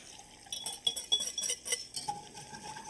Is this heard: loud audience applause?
no